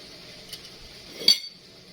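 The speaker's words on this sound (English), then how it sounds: "Put your jar lid right on" A metal lid is set onto a glass canning jar of corn cob jelly, giving a light tap and then one sharp clink in an otherwise quiet room.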